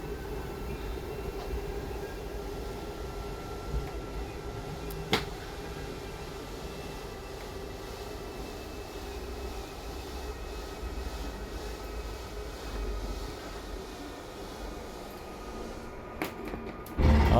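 The slide-out motor on a 2018 Freedom Express RV runs as a steady, even mechanical drone, with a single brief click partway through and a louder clunk at the end as it reaches full extension.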